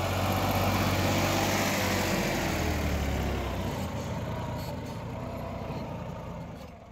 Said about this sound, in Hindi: शुरू से लेकर आज तक रैंप के ऊपर चल रहा है भाई ट्रैक्टर